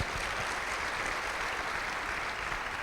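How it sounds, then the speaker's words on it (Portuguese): Steady, loud applause from a church congregation during a family worship service, a continuous dense wash of clapping with no talk over it. "Então dá um aplauso aí bem forte a Ele."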